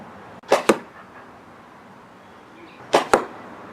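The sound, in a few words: Pocket Shot arrows being shot with full arrow system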